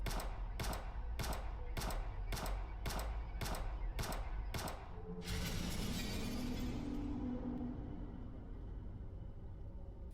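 Rapid gunfire in a Steam video game: about nine sharp, evenly spaced shots crack in quick succession, followed by a burst of shattering and a fading rumble as a creature is killed.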